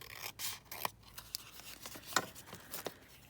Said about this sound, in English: let's just cut that section off here